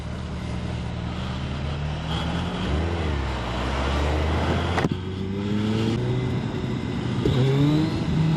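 A Suzuki sport motorcycle, either a GSX-S1000GX or a Hayabusa, rolls on the throttle and accelerates, its engine pitch climbing in sweeping rises over a steady road-noise bed, continuous and fairly close.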